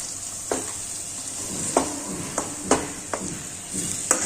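Yogurt stirred into a frying methi muthiya curry in a pan, with a steady high sizzle under a handful of soft spoon scrapes spread through the clip, without speech.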